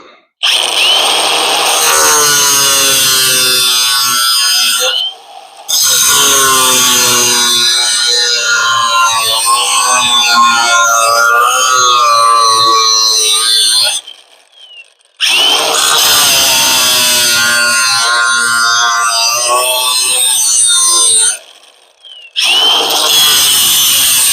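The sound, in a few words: power saw trimming wood for cabinet corner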